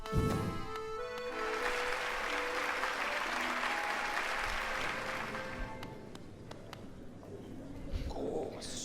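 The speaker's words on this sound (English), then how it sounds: "Hear how the crowd adores you." Sustained video game crowd applause and cheering, from Hollow Knight's Grimm Troupe, swells over a musical tone, then thins out, leaving scattered sounds near the end.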